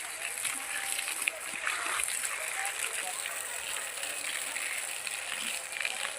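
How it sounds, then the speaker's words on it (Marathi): Water from a pipe splashes steadily onto the soil around four young Hapus and Kesar mango trees in a farm field, a continuous close hiss and spatter with no pause. "पण चला आपण पाणी देऊया त्यांना."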